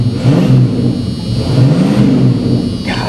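A 1987 Buick Grand National sitting at a Copart salvage yard, its engine idling and revving with a steady, loud mid-range rumble that swells twice, close by with no talk.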